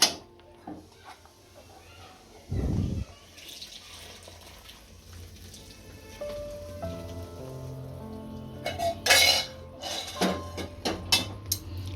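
Utensils clatter and scrape while adadiya pak, a thick Gujarati sweet, is moved from the pan into a tray, with a few sharp metallic knocks over a quiet kitchen background.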